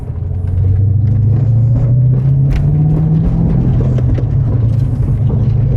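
A BMW E36 Touring with a swapped S62 V8 and manual gearbox drives slowly, its loud, steady engine drone rising gently in pitch, close and continuous, with no talking.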